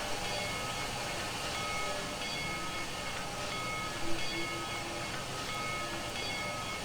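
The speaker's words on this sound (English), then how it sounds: "It's got a really nice sounding bell." The bell of an MNRR T-3 4-6-0 steam locomotive in Trainz 2019 rings steadily and repeatedly over a constant hiss and rumble, with no one talking.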